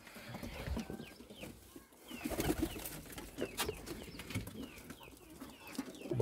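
Pigeons in a Romanian backyard coop with chicks, soft cooing and chirping calls scattered over a busy, low rustling background of farm animals, no clear talking.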